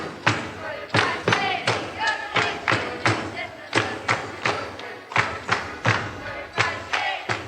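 Rhythmic thuds of people treading grapes in a wine tank in northern Portugal, dancing to a song, with a crowd singing and shouting over the steady stomping.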